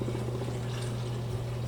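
Water pours steadily into a large pot on a stove during blackberry jam canning, a constant close splashing rush with a low resonant fill tone, alone and unbroken.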